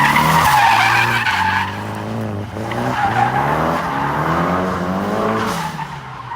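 A Dodge 2500 turbo diesel truck drifts with its tires skidding and squealing loudly over a rising, falling diesel engine note, the screech continuing for several seconds.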